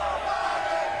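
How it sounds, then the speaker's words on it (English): A large crowd at a sporting event chants in unison, a dense, sustained roar of many voices blending into one loud, steady wall of sound. "as you can hear the chants from the crowd"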